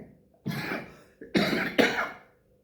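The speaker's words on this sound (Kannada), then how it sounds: "ಸಾರಿ ಸ್ವಲ್ಪ ಕೆಮ್ಮಿದೆ ಎರಡು ದಿನದಿಂದ" A person coughs in three harsh bursts, one then a close pair, loud and near with no talk over them, during a Kannada political commentary on Karnataka politics.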